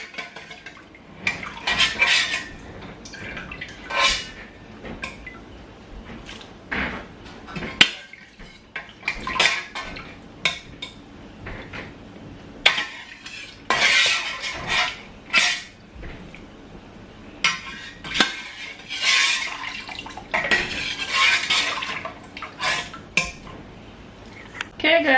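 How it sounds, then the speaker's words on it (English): Beef is stirred in a cooking pot, with a metal utensil scraping and clanking against the pot in irregular bursts, loud and close, interrupted by pauses. "I've added the beef, so I'm going to stir it a bit."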